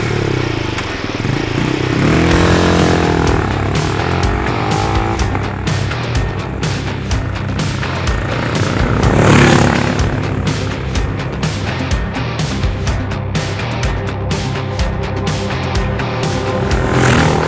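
A Benelli Imperiale 400 BS6 retro motorcycle accelerates on a hilly road, its single-cylinder engine thumping loud and close as revs rise and fall through gear changes, with wind rush over the steady roar.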